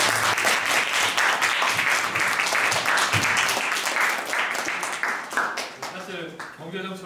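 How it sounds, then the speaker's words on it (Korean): Lively applause from a lecture audience follows a special talk by a former trade association chairman, dense steady clapping that fades toward the end as a voice begins speaking. "예, 큰 박수."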